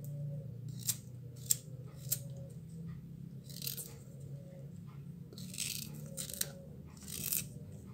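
Spice ingredients being cut into pieces before grinding, for a pan-grilled catfish seasoning: a series of quiet, crisp snipping cuts at an uneven pace, close up with no voices.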